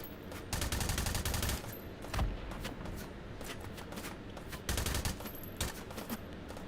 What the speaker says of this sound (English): When you can't aim, fire more bullets.